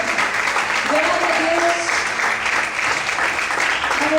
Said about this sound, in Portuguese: Aplauda o Senhor, porque tudo está no controle das mãos dele.